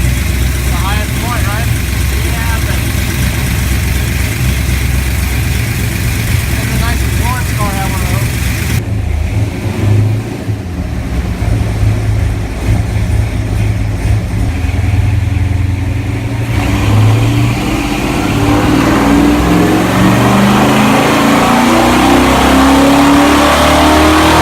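A 1963 Ford Galaxie 500's Tom Lewis FE V8 rumbles at a steady idle, then climbs into repeated loud revs, close up with a heavy, continuous low growl throughout.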